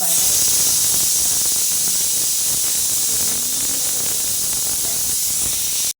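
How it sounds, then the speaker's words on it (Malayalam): A pressure cooker vents a loud, steady hiss of steam while chicken biryani cooks. The hiss holds for about six seconds, then cuts off abruptly. "ഫസ്റ്റ് വിസിൽ വരുന്നുണ്ട് കേട്ടോ ഇപ്പോൾ വരുന്നു"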